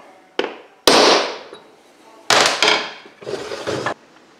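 Several sharp hammer blows on a center punch, irregularly spaced, each a loud metallic crack with a brief ringing decay, close by in a quiet room.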